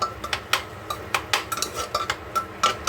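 Greens fry in a pan while a utensil stirs them, giving quick, irregular metallic clicks and scrapes against the pan over a faint frying hiss, close and with no talking.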